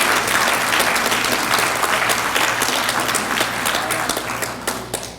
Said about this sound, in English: Please, let's give them a hand of applause because they were all instrumental.